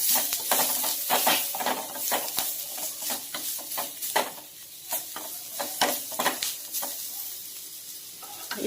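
A paneer shawarma mixture seasoned with salt, chili and cumin powder is stirred steadily, with repeated scraping and clicking strokes over a soft sizzle, close and fairly loud, with no voices.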